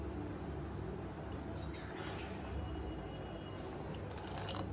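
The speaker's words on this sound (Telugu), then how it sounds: "ఇలా నీట్గా కలుపుకుని కొంచెం వాటర్ వేస్తాను నేను" Water is splashed and poured into a wet cooking mixture, with steady liquid dripping and squishing close by for several seconds, no voices.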